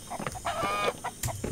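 A hen in the survival game MIST Survival clucks in quick, choppy bursts with a brief drawn-out squawk in the middle, close and clear over a faint ambient hum.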